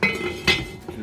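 Metal lid set onto a Dutch oven of braising pork in apple cider, two or three close, bright clinks and a scrape of metal on metal in quick succession.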